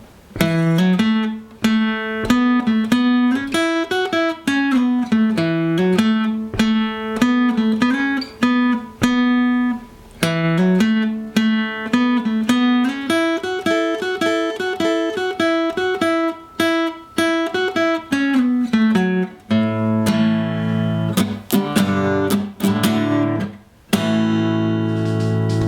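A song's intro solo played slowly on guitar: a steady, close lead line of plucked single notes and bends running unbroken, with a brief pause near the ten-second mark and fuller strummed chords near the end.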